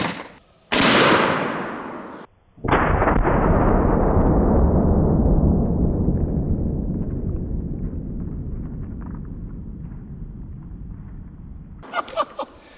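Two deafening blasts from a double barrel 10 gauge shotgun fired at gallon jugs of mayonnaise outdoors. Each shot is a sharp crack, and the second rolls into a long, slowly fading echo before faint sounds at the end.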